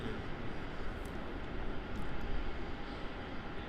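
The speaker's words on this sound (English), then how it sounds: "Here's that United from Los Angeles, 787-9 Dreamliner." A United Boeing 787-9 Dreamliner arriving from Los Angeles at Melbourne Airport gives off a faint, steady engine rumble with slight fluctuations, heard from a distance.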